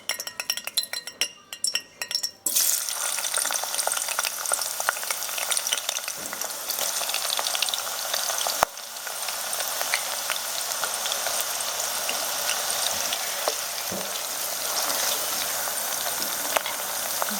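Onions hit a prepared stew for agidi jollof and fry with a steady, close sizzle, after a few clinks of utensils at the start and no talking.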